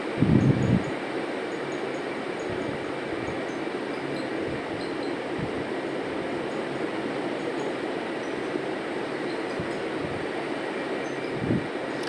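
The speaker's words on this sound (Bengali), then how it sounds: "তেলটা ভালোভাবে গরম করে নিয়ে মশলা মাখিয়ে রাখা মাছটা আস্তে করে কড়ার উপরে" Spiced Chitra fish frying in hot oil in a wok gives a steady, close hiss that runs the whole time, with a couple of soft low knocks near the start and end.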